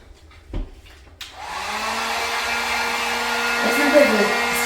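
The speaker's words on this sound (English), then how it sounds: "I better get my drying tool." A hair dryer switches on and runs steadily and loud, drying paint on a wooden pallet craft pumpkin; a brief knock precedes it and the blower hum holds to the end.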